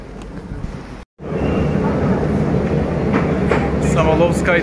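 A Moscow metro subway train rumbles loudly and continuously, with a steady rolling roar and faint rail clatter; a brief cut of silence interrupts it near the start, and some talk sits under the noise.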